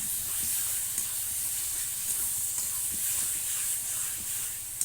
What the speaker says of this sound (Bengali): এটাকে যত সময় পর্যন্ত তেল না ছাড়ে তত সময় পর্যন্ত এটাকে ভাজা করতে হবে